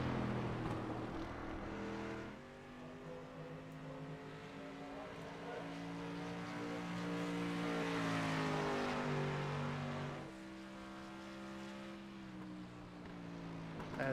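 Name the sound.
stock car racing engine in video game iRacing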